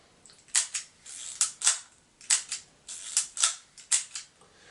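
A Retinette camera shutter fires repeatedly, about a dozen sharp, close mechanical clicks in quick uneven pairs with brief pauses between them.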